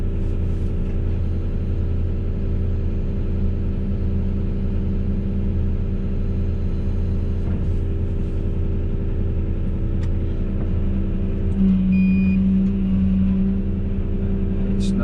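Steady low engine rumble and road drone from inside a car driving along, continuous and even throughout, with a slight shift in tone partway through.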